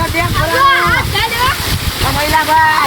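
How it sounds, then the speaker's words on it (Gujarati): Water pours and splashes loudly and continuously from a farm dam over people's heads while several people shout and cheer over it. "સાગર પક્કાભાઈ માથે પાણી જવા દે."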